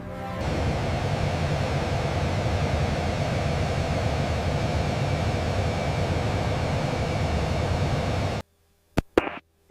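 A steady, loud engine drone from a WW2 Mitsubishi G4M Betty twin-engine bomber in flight fills most of the stretch, then cuts abruptly to near silence with a couple of brief clicks at the end.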